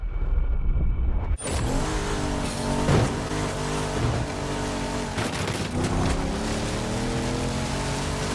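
A car drives over a dirt road in The Crew Motorfest, with a steady engine drone and gritty tyre noise throughout, loud and without speech.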